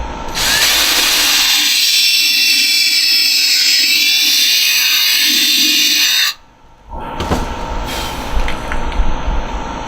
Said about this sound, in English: make sure you're still on the neck, and drill another hole